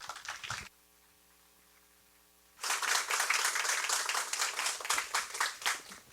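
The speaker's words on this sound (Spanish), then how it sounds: "para quien pido un fuerte aplauso" Applause from a lecture audience greeting a guest historian, starting after a quiet stretch of room hum and filling the rest as a dense, steady patter of many hands, briefly preceded by a short burst of clapping.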